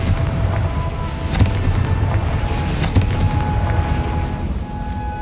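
A Confringo fire spell bursting in Hogwarts Legacy gives a few sharp booming blasts over a dense, rumbling game soundscape.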